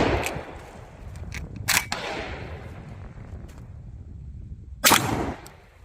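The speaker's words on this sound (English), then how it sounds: "We'll try out this Winchester 2-shot. It is steel, and this is just a little 2 3/4 inch." A Browning A5 12 gauge semi-auto shotgun fires Winchester 2-shot steel 2 3/4 inch shells outdoors, with two loud booming blasts several seconds apart and a lingering rumble after each.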